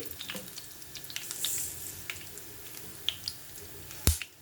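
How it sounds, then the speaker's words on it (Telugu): Mustard seeds and chana dal sizzle and crackle in hot oil while raw mango pulihora is cooked. Faint frying runs throughout, broken by small scattered pops and one sharper crackle near the end. "ఆవాలు వేస్తున్నాను."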